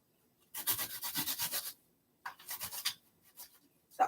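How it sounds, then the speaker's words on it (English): Half an onion is rubbed hard against a grater in two rhythmic bursts of rasping scrapes, close and moderately loud, with a pause between them. "So I'm just grating a half of an onion in the mix as well."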